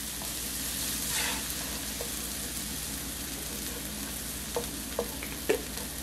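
Chicken broth goes into a pan where food is being sautéed for chickpea croquettes with shrimp and cheese, giving a steady close sizzle and fry hiss with a few soft stirring clinks near the end; no one speaks.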